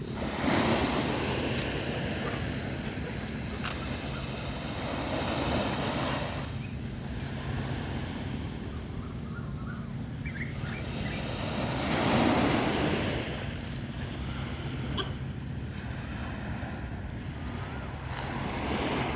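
Sea waves on a beach wash in as broad, roaring surges that rise and fall every few seconds, with a steady wind rush over the microphone and no talk.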